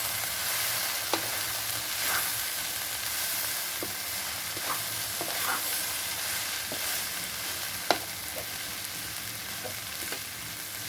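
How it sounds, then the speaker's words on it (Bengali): Chira pulao made with flattened rice is stirred in a pan with two spatulas: a soft, steady sizzle with scattered light scraping and tapping clicks, fairly quiet and close. "দুটো খুন্তি দিয়ে মিক্স করে দিই ভালো করে।"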